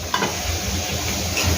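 Onion sautéing in a kadhai until browned, a steady close sizzle with soft stirring scrapes throughout.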